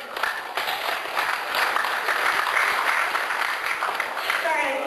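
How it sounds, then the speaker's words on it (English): Sustained audience applause during a panel discussion at a fan convention, a full, steady wash of clapping with crowd murmur that holds evenly for several seconds. "clap for that"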